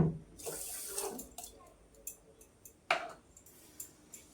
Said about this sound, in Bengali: যতটা চিনি নিয়েছিলাম ততটা জল দিয়ে দিব, আরো তার হাফ দিয়ে দিব।